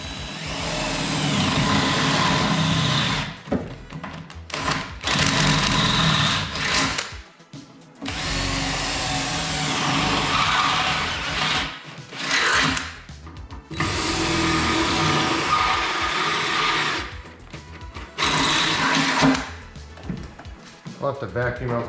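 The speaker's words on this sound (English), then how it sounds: "drill a hole, 6 of them to be exact, without hitting this harness" A power drill bores holes in a Mazda Miata roll bar, with loud whining bursts of drilling broken by short pauses, repeated several times.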